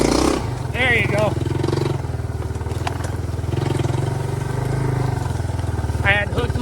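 A Yamaha YTM200 three-wheeler engine idles and revs with a steady low throb while the trike rides over a log on a trail, with brief clunks as the front wheel catches. A voice speaks over it.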